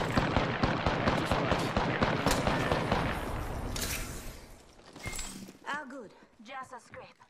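First-person shooter game gunfire as a rapid, steady string of shots for about four seconds, then a few isolated bangs while a voice speaks.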